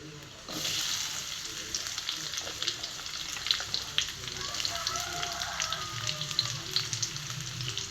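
Fennel seeds, onion and curry leaves sauté in hot oil in a pan for kadala curry. The sizzle starts suddenly and stays steady and close, with light stirring noises.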